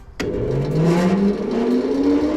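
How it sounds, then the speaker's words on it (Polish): A large grain blower fan on a farm starts up during harvest and spins to speed, its whine rising steadily in pitch into a loud continuous roar. "A tutaj odpalam sobie dmuchawę, ale jest to strasznie głośne."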